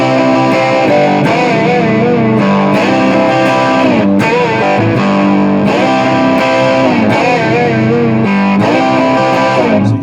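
Distorted electric guitar plays a driving riff, loud and continuous with chugging, repeated chord strikes and no talking.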